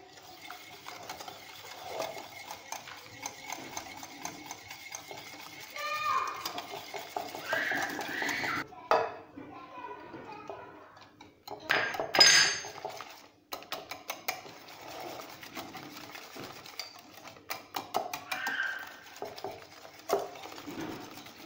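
Two eggs and a spoonful of cornstarch being stirred with a spoon in a bowl, giving uneven scraping and clinking strokes with a few sharper knocks, close up and with no voices.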